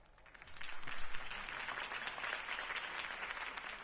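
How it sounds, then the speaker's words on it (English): Crowd applause follows a campaign speech in the Batman Telltale video game: dense, sustained clapping that swells within the first second and then holds steady, loud and close, with no talking over it. "If only Mr. Wayne, my campaign's largest backer, could have heard that applause"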